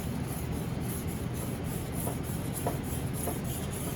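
A knife edge is stroked steadily across a sharpening stone from tip to back, a continuous close rasping scrape with faint rhythmic pulses over a constant background hiss.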